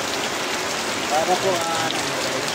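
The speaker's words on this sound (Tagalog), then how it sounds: "pahinga muna kami dito kasi malakas ang ulan" Heavy rain pours steadily onto a surface, a dense even hiss with drops pattering throughout while a voice speaks briefly over it.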